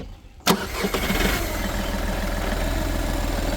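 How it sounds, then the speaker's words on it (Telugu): A 2013 Volkswagen Polo petrol engine cranks with a sharp burst, then catches and settles into a steady, fairly loud idle rumble. "ఇంజన్ కూడా మీకు ఒకసారి స్టార్ట్ చేసి చూపిస్తా సౌండ్ ఎట్లా వస్తుంది అనేది కూడా"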